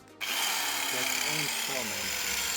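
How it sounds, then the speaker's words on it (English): A power drill bores into a car body panel to fit a side grill, whirring steadily and loudly after a click-on, its pitch wavering as it bites into the metal. "We're going to start drilling in this."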